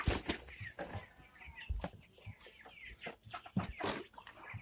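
Kampung chickens in a coop clucking close by, with repeated sharp clucks and squawks in an irregular rhythm, some wing flapping, and no talking.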